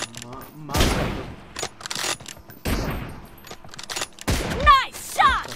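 Sniper rifle shots from an M24 in a video game, several sharp loud reports spaced apart with echoing tails, mixed with game effects and voices talking over them.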